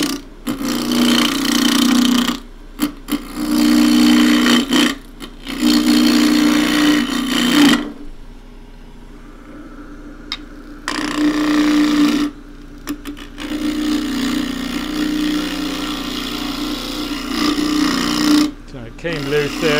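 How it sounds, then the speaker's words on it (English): A wooden Christmas bell blank is roughed down on a lathe with a 1/2-inch spindle gouge, making loud rasping, rumbling cuts in several long passes. Short gaps fall between them, and the spinning wood whirs during the pauses. "I'm going to rough this down as I usually do with a 1/2-inch spindle gouge"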